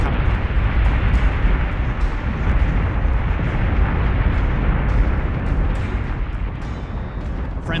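Dense, continuous roaring of missile explosions in the space battle game Battlestar Galactica Deadlock, loud and rumbling with scattered crackling bursts layered on top and no voices.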